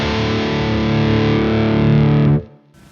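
Heavily distorted metal guitar through an ENGL Savage 60 Mark II amp boosted by an SD pedal, a dense, saturated chug held loud and steady for about two seconds before cutting off abruptly into a faint tail.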